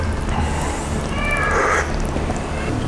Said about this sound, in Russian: Это купили ребенку котенка, но котенка не выпускают, держат его в мешке с дыркой